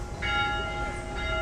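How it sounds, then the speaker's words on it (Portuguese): A church bell tolls at noon, its steady ringing tone sustained across the short stretch over a low background rumble, with no voices present. "Olha, bem na hora da badalada"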